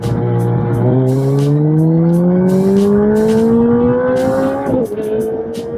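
Suzuki Hayabusa Gen-3 motorcycle in first gear at full throttle with lift control active, a loud, close engine howl climbing steadily in pitch for about four seconds before a brief dip at the shift, then holding high.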